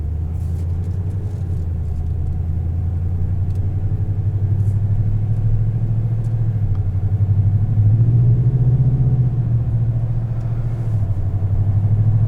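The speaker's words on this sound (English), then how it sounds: "This is probably the loudest exhaust on a truck from factory" A 2021 Toyota Tundra TRD Pro CrewMax pickup drives with its factory exhaust, giving a loud, continuous low engine rumble from inside the cab that swells briefly as revs climb midway, then settles.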